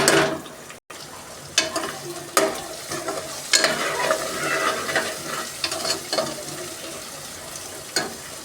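Egg frying for egg rice, a steady close sizzle with bursts of spatula stirring and scraping against the pan recurring every second or two, no voices.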